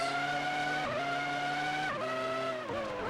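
F1 cars in the PS2 game F1 2003 at the Canadian Grand Prix whine at high revs, each engine's pitch climbing then dropping sharply at gear changes, loud and close with no voices.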